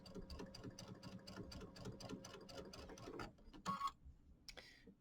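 A sewing machine stitches around the outside edge of a small Kimberbell quilt about 1/8 inch in, a fast, rhythmic mechanical chatter heard up close that stops after about three seconds, followed by a few clicks and handling sounds.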